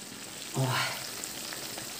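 Fish frying in a pan, giving a short close sizzle that swells for a moment and then settles into a steady hiss.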